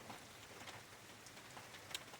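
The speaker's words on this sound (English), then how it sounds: "I mean, it's raining." Steady rain falling at night, a soft, even hiss of drops on surfaces with a few slightly sharper patters, faint and continuous with no voices.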